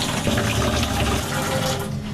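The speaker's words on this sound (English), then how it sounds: "Most of us are guilty of turning on the shower and waiting until the water warms up before we get in." A shower runs at full flow while the water warms up before anyone steps in, a steady loud hiss and splatter that continues without a break, with no talk over it.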